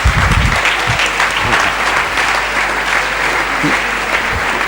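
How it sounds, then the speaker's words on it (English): Audience applause fills a parliamentary chamber at the ECOWAS Parliament, a dense, steady wash of clapping from many hands lasting throughout, loud and close, with no voices standing out. "Please give her another resounding round of applause."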